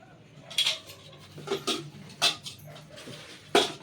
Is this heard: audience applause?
no